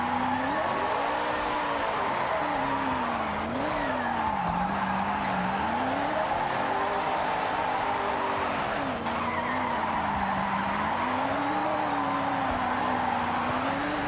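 Virtual car in Forza Horizon drifting around a corner under braking, its engine note rising and falling in long sustained sweeps through the whole stretch, with a steady tire-squeal hiss beneath and no talking.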